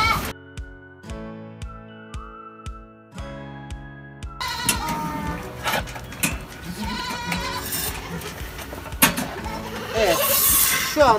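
Saanen goats bleat on a dairy goat farm amid busy barn noise, with overlapping calls across the second half after a short melodic opening, and voices faintly mixed in.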